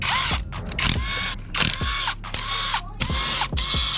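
A ratchet wrench clicks rapidly in several short bursts, loosening bolts on the stator cover of a wrecked Suzuki GSX-R600 motorcycle, close and crisp with brief pauses between strokes.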